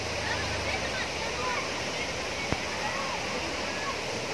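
Takapala waterfall in South Sulawesi pours with a loud, constant rushing roar of falling water, steady and close, with a single brief knock partway through.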